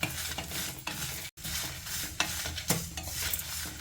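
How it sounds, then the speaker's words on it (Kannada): Mustard seeds, fenugreek, curry leaves and dry red chillies being stirred and lightly roasted in a pan, with a soft steady sizzle and scraping spoon strokes, a brief gap midway. "ಇಷ್ಟನ್ನು ಹಾಕ್ಕೊಂಡು ಲೈಟಾಗಿ ನಾವಿದನ್ನ ಹುರಿದ್ಕೋಬೇಕು."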